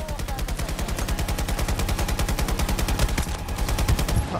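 Automatic gunfire from an LCMG light machine gun in Battlefield 2042, a loud, steady rapid rattle of shots running nonstop through the whole stretch at close range.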